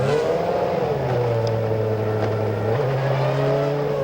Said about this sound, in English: You hear the engine revving.